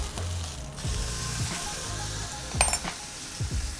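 Beef steak searing in a hot pan as it is turned, a broad steady sizzle with clinks and scrapes of the utensil against the pan, close up with no talking.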